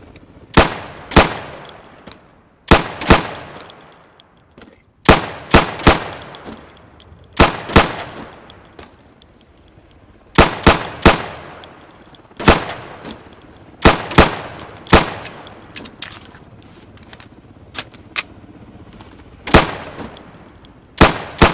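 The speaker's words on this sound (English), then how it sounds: "So you can shoot accurately over 20 feet with your sidearm." Sidearm pistol fire in Insurgency: sharp, loud shots in quick pairs and short bursts with pauses between, metallic pings from pop-up targets at a range, no talk.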